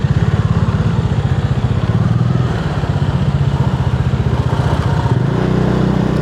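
A motorcycle engine runs nearby in traffic with a loud, rapid, pulsing chug that stays steady. Its note shifts slightly near the end.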